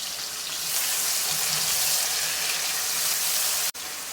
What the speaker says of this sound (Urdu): آئل ہمارا گرم ہو چکا ہے، ابھی اس میں پیاز شامل کرتے ہیں۔